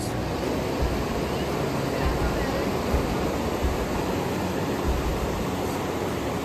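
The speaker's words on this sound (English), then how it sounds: "Piche pani ki aawazein." Steady broadband rush of flowing water, loud and continuous with no breaks, from a fast river close by in Shoja, Himachal, during rain.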